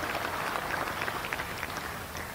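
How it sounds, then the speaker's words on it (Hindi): An audience at a public event in Indore breaks into a dense burst of applause, many hands clapping steadily and fairly loudly for a couple of seconds. "इस पर तो जोर से ताली बजाओ आप"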